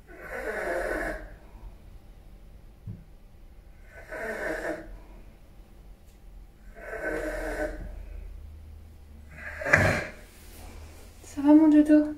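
A sleeping Bernese mountain dog breathes noisily with phlegm, giving three slow, rasping snore-like breaths at steady intervals, then a sharper snort and a wet, wheezy gurgle near the end, close and fairly loud.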